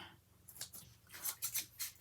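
Scissors snipping through paper or fabric, several quick crisp cuts close by, sparse at first and then three or four faster snips, quiet with no speech.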